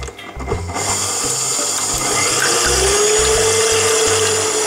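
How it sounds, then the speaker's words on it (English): A stand mixer beats egg whites for French macarons, a loud steady motor whir with a rising whine that runs continuously and alone after a brief start. "I'm going to use this stand mixer"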